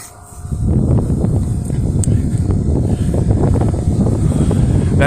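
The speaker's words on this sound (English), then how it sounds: "we're getting a lot of wind just coming straight off of that lake" Strong wind coming off a lake buffets the microphone with heavy, continuous low rumbling and gusty thumps that stay loud throughout.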